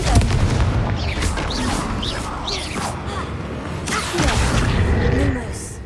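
Booming explosions from the Confringo blast spell in Hogwarts Legacy, several loud bursts with whooshing tails over a steady noisy bed, with talk under and between them.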